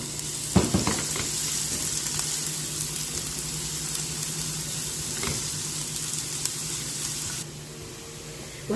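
Onion frying in ghee in a pan gives a steady, close, moderately loud sizzle with a few sharp stirring clicks early on, then drops quieter near the end.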